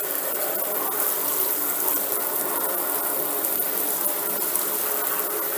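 Steady hiss of hot water running from a tap, a continuous broadband rush with faint clicks underneath, close and moderately loud throughout.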